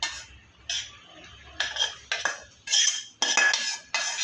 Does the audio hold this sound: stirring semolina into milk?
yes